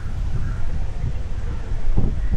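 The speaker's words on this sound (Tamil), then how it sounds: "உங்களுக்கு அந்த சவுண்ட் அடிக்கிறது கேட்குது என்ன தெரியலை, நல்ல காற்று." Steady wind blowing across an open hotel balcony in Jaffna, a continuous low rushing roar with gusty buffeting against the microphone throughout.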